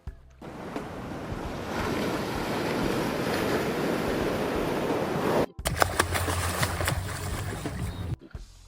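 Ocean surf breaks steadily on the southwest shore of a Florida island, a loud continuous wash of waves with wind buffeting the microphone, then a brief cut and a rougher burst of surf near the end.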